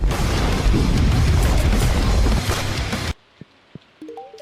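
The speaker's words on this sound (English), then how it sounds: "Explosions!" A loud, dense roaring blast from an explosion sound effect rumbles for about three seconds, then cuts off abruptly, leaving a few faint clicks and short tones.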